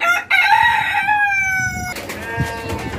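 A rooster crows loudly and close by in one long, drawn-out call, followed by softer clucking and rustling from other mixed-breed native chickens, some sitting on eggs.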